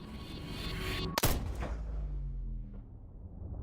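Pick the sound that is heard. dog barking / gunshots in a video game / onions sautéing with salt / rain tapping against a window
gunshots in a video game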